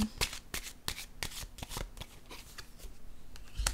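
Tarot cards are handled and shuffled close by, giving a run of crisp, sharp riffling snaps and slides at an uneven rhythm, quiet and alone without talk.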